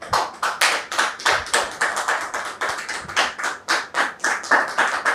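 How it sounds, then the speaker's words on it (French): Studio audience claps for a guest being welcomed onto a French television set, a crisp, close, rhythmic burst of individual handclaps repeating steadily throughout without voices. "Monsieur Bierou, que je voudrais vous demander de recevoir sous vos applaudissements"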